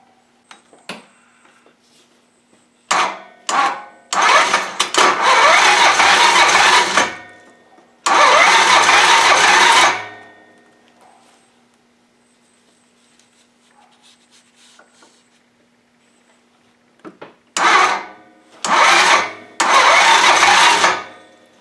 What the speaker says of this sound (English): I was concerned about the valve adjustment, the way this thing was firing